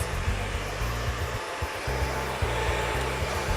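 A Solano hair dryer runs continuously while blow-drying a client's hair with a round brush, a close, steady whirring hum with a brief dip partway through as the airflow shifts.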